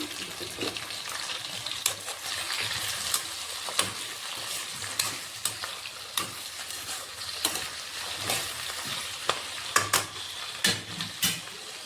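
Chopped budamakaya pieces are stir-fried briefly in a pan, giving a dense, continuous sizzle with frequent scraping stirs and light clinks. The sound is close and steady throughout, with no speech.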